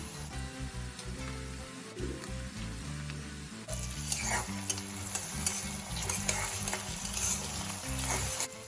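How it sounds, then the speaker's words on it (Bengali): Chopped onion and tomato fry in oil in a wok for an egg curry while being stirred, a continuous sizzle joined by repeated scraping strokes of the spoon that grow more frequent and sharper midway, with no talking. "এবার ভালো করে ভেজে নেব নাড়াতে নাড়াতে"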